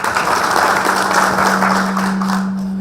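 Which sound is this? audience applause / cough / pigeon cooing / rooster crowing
audience applause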